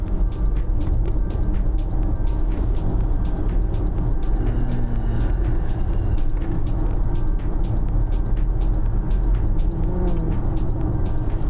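An Audi e-tron electric car driving in sport mode gives a constant low road rumble and tyre hum, with a faint whine rising and falling midway and no voices.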